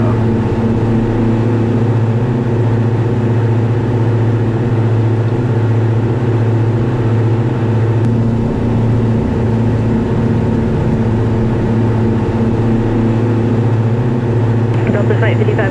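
Twin engines of a 2020 Diamond DA62 drone loudly and steadily through a takeoff climb over the coast near Long Beach, a constant close cabin hum with speech beneath it.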